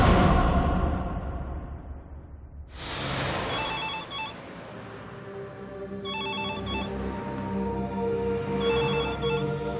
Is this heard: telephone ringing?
yes